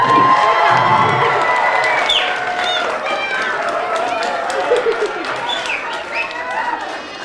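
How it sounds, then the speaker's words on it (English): An audience at a chemistry magic show cheers and shouts steadily, a loud, dense crowd roar with excited children's voices rising above it, continuing throughout without a break. "let's cheer her on."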